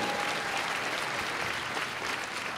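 Steady, dense applause from an audience at a dance competition fills the whole stretch, a loud even wash of clapping with no breaks.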